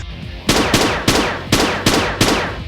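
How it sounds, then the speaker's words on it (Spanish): Intense bursts of gunfire in a Kamen Rider Ryuki action scene, five loud sharp volleys ringing out at regular half-second intervals, each with a decaying echo, and no talk. "como para contrarrestar los gritos de Ryuki, de repente resonaron disparos intensos"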